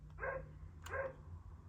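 Dogs give two sharp barks about a second apart, close by indoors, over a low steady background hum.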